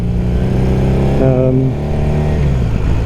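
Engine of a 1978 Honda CB400T motorcycle while riding, a steady mid-pitched drone that climbs briefly in pitch as the throttle opens, then settles back, with wind rush underneath.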